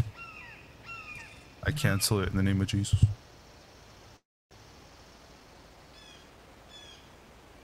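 Crows or similar birds caw outdoors in a suburban backyard on a summer day, a few harsh calls early and fainter chirps later, with people talking loudly over part of it.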